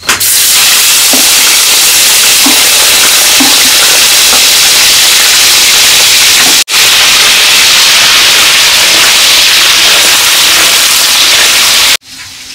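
Prawns go into a pan still hot from frying chicken for Hong Kong chilli chicken at an outdoor picnic, producing a loud, continuous sizzle and spitting hiss with faint stirring clinks, briefly interrupted twice.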